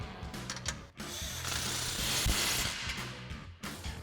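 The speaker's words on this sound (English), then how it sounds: "now we'll use our 15mm socket on our impact to tighten down our clamp on our outlet tube" Impact wrench with a 15mm socket tightening an exhaust clamp on the outlet tube of a RAM 2500 Flowmaster dual exhaust, a close, loud rattling burst hammering for a few seconds with brief breaks.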